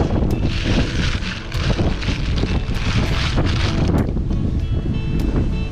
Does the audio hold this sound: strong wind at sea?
yes